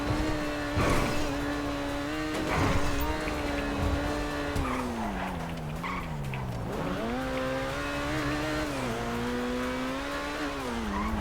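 An Entity MT supercar in GTA V revs hard and accelerates, its engine note rising, dipping and climbing again with gear changes, while tires squeal and skid throughout.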